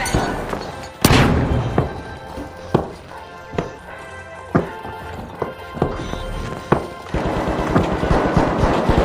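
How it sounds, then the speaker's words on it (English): Sharp, loud detonations from a flashbang grenade in The Finals shooter game, several punchy bursts spaced irregularly over a busy background of gameplay sound, with no voices. "Throwing a flashbang."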